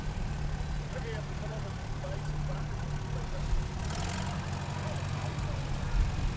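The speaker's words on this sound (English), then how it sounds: "next up is Tom Kai with his nicely restored Volvo tractor" A restored antique Volvo tractor engine runs steadily at a low, even idle, close and continuous, with faint voices in the background at an outdoor thresheree show.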